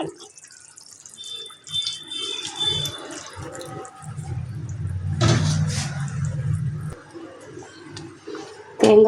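Coconut milk pours into a pot of brinjal kara kuzhambu, a spicy Tamil eggplant curry, giving a few seconds of steady, moderately loud splashing over quiet kitchen background.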